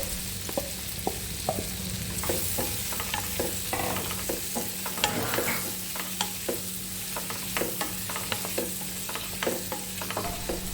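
Chopped jackfruit sautéed in melted butter or ghee in a pan for a jackfruit and banana dish, giving a steady low sizzle broken by frequent scraping clicks of a stirring spoon, close and moderately loud, with no talking.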